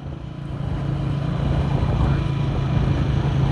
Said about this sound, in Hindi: ये चेक करें जी अभी हैवी ट्रैफिक